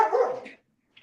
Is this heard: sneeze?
no